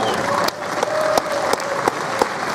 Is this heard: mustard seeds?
no